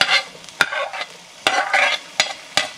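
Onion and green chile sautéing in a pan for chicken pastelitos, several sharp scraping stirs of a utensil over a soft sizzle, close and loud, with no talking.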